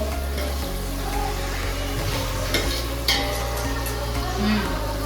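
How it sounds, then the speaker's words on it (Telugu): A ladle stirs a pot of curry with coriander and mint in a home kitchen, giving continuous scraping and a frying sizzle, steady and close, with no talk. "వచ్చి గరిట తిప్పుతుంది అంతే."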